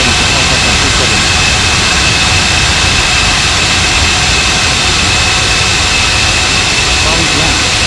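A large jet airliner, an Airbus A340-600 or Boeing 777-300ER, roars at full power on takeoff from runway 27 in Bali, a loud, unbroken engine rumble with radio voices over it.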